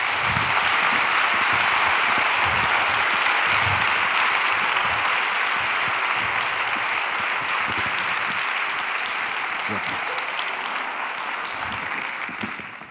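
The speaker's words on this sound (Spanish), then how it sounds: "quiero que le recibáis con un caluroso aplauso" A large audience applauds steadily, a dense wash of clapping that holds strong and then slowly tapers toward the end.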